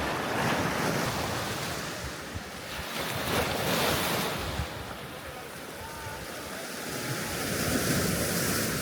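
Sea waves wash steadily onto the shore by a hotel on the coast, a broad continuous surf roar with gusting wind buffeting the microphone throughout.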